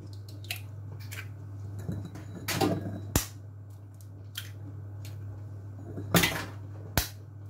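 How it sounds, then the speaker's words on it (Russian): Eggs cracked one after another into a bowl for spaghetti carbonara, heard as a few sharp close taps and wet plops spread over several seconds against a steady low hum, with no talking. "Вбиваем яйца в миску."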